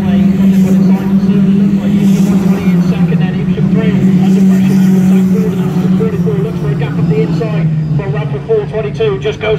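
Autograss racing cars at an Evesham Autograss Club meeting roar past in a loud continuous engine drone with shifting pitch, mixed with crowd babble and commentary.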